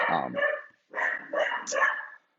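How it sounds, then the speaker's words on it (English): Dogs bark intermittently in the background while a person talks over them, the barking partly masked by the voice. "I apologize for the dogs barking."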